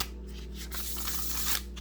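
Tarot cards shuffled in the hands during a card reading, a steady papery riffling and rubbing that runs close and continuous for under two seconds over faint low background hum.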